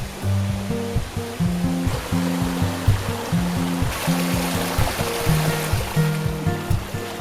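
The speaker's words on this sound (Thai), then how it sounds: "สำหรับลำธารที่ไหลผ่านบริเวณข้างที่พักนี่สามารถลงไปเล่นน้ำได้" A small mountain stream flows beside a homestay in Bo Kluea with a steady, continuous broadband rush of running water, partly under a louder plucked melodic music track.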